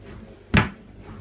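A drawer shuts with one sharp wooden knock, close and loud, in an otherwise quiet room.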